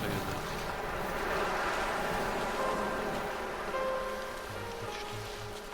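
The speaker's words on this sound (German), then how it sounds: "Jetzt haben wir den Wind im Rücken" Wind blows across the island in the video game Dear Esther as a steady, full, rushing roar, with a faint low rumble like distant surf beneath it.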